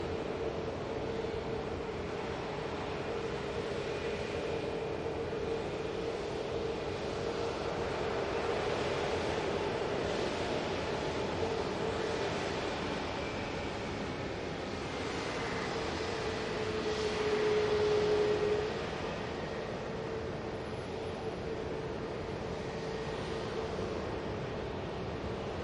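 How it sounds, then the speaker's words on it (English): An Aer Lingus Airbus A320neo touches down at Manchester Airport, heard as a distant, steady broadband roar with a faint sustained engine tone that briefly swells near the end. "Aer Lingus 320neo about to touch down"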